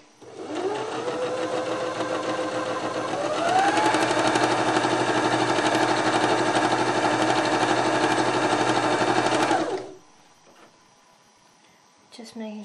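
A sewing machine stitches a quarter-inch seam on a fabric tote, a steady close whirring hum that starts slower, speeds up and runs for several seconds before stopping, followed by brief handling noise.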